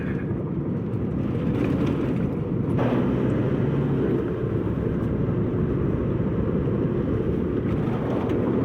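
A car drives through morning mist on the way up to the Howitt High Plains, its engine and road noise forming a steady, close, low rumble that holds evenly throughout with no talking.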